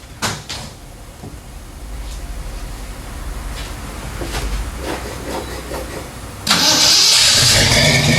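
An AMC AMX with fuel system trouble clicks, then its starter cranks and the engine turns over in a long rising grind before a louder roar and hiss break in at the end, close to the car.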